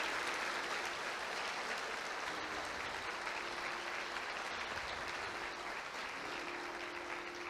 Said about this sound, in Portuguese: Pode aplaudir, se for para aplaudir,